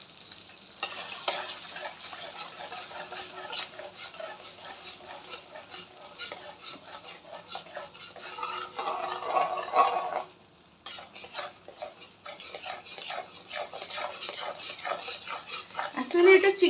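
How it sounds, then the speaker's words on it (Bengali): Chowmein ingredients with a pinch of salt being stirred in a pan: steady scraping and rubbing of a utensil against metal, with quiet frying underneath and a few louder clanks, close and continuous. "সব কিছু দিয়ে ভালো করে মিক্স করে নিচ্ছি"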